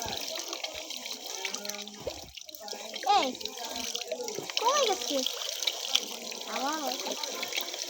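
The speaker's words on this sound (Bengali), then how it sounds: "টিউবওয়েল থেকে পানি তুলছে" A 12V DC pump draws water up from a tubewell; a steady watery rush runs through, while a voice speaks over it, with the flow sounding uneven as air enters the pipe.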